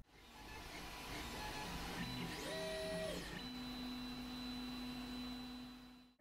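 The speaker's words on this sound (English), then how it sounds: "This is a Bambu Lab A1 3D printer, and Pablo and I have been using it" A Bambu Lab A1 3D printer running alone, giving off a steady mechanical hum with short rising and falling stepper-motor tones partway through, followed by a sustained low whir.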